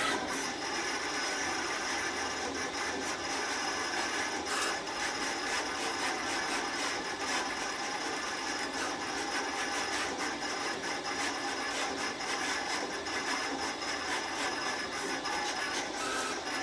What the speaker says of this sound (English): I'm going to go ahead and send it over to the cutter,